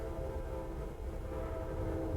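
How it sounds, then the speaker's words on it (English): A train passing by, heard from indoors as a steady, fairly faint low rumble of rail traffic with a soft horn-like tone running through it. "Train going by."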